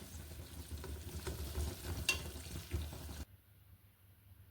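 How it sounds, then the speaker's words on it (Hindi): Onions frying in a pan until golden for a mutton qeema chana dal, a steady close sizzle with light stirring that cuts off abruptly near the end, leaving near silence. "अनियन को हम फ्राई करेंगे गोल्डन कलर में।"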